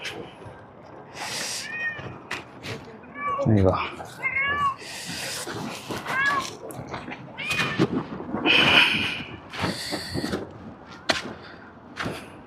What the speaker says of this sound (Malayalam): അത് പൂച്ച